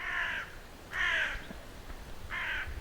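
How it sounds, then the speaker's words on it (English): Crows caw outdoors in three loud, harsh calls spaced about a second apart, close by and with no other sound over them. "Bloody crows."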